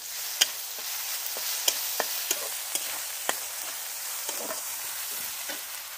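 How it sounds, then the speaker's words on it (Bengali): Cumin, chili and ginger paste frying in hot oil while crabs are cooked, giving a continuous bright sizzle punctuated by a series of sharp spoon taps and scrapes against the pan. "এবার আমার জিরে, মরিচ, আদা যেটা আমার পেস্ট করা ছিল, সেগুলো আমি তেলে দিয়ে দেব।"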